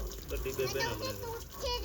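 Water runs and splashes while a car is washed, a continuous close gush with voices talking over it.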